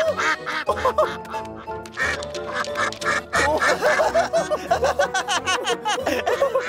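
A cartoon duck quacks rapidly and loudly in a jumbled, chattering stream, mixed with snickering, comic French voices and playful music.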